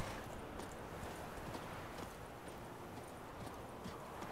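A horse's hooves clip-clop in The Witcher 3: Wild Hunt, a soft, steady patter of footfalls set in quiet ambient game sound.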